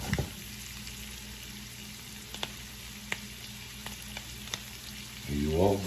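Chicken with fresh parsley toasting in a pan, a soft continuous sizzle with occasional sharp clicks and taps of a utensil, ending in a brief louder scrape or shuffle.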